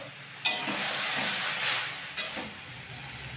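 Mashed chalta fruit with turmeric frying in a pan, a steady soft sizzle after a sharp clatter as it goes in, with faint stirring scrapes and no talk.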